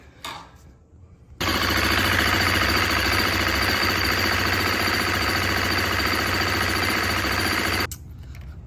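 A 350 dirt bike engine, freshly serviced with an oil change, starts and runs at a steady loud idle for several seconds close by, then cuts off abruptly.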